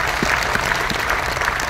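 Brief burst of dense audience clapping at a crowded RCM business seminar hall, loud and close, continuous with no voices over it.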